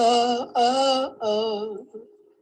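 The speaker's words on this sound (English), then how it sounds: "very simple me humming into my computer mic" A voice hums three short sustained notes in a row into a computer microphone, close and a little rough, followed by a fading low tail, no words.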